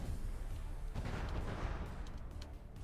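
A battleship takes gunfire hits in the video game From the Depths: faint, steady rumbling booms and impacts continue throughout, distant and quiet, with no talking.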